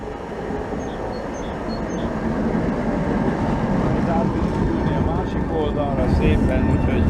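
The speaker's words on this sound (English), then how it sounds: "And here comes the 17 tram." A Prague number 17 tram rumbles in and slows at a stop, a loud steady mechanical drone with squealing wheel tones rising toward the end.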